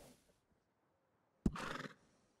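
A single horse neigh in the Red Dead Redemption 2 video game, a sharp onset followed by a short whinny lasting about half a second after near silence.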